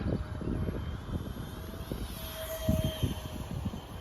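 A mini RC F-35 jet flies at half throttle outdoors, giving a faint, distant whine with a steady, wind-like rush throughout.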